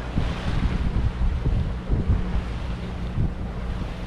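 Wind and waves aboard a sailboat heading into a headwind off the Italian coast near Capraia and Elba, loud gusty wind buffeting the microphone over rushing water, continuous with no talking.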